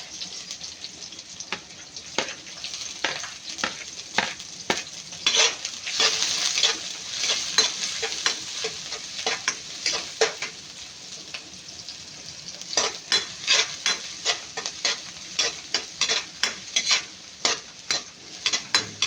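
Onions sauté in a pan for a Filipino mung bean stew, a soft steady sizzle with repeated scraping strokes of a spatula stirring the pan, close by and with no talk.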